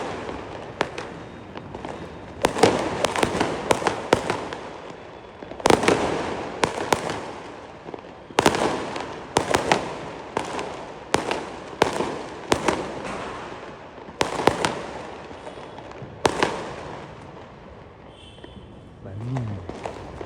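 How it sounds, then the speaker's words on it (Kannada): Diwali firecrackers burst outdoors in Bangalore as a string of sharp, loud bangs and pops at irregular intervals, some close and some farther off, with people talking in the background. "ಪಟಾಕಿ ತೋರಿಸ್ತೀನಿ ತಗೋಲ್ಲಿ"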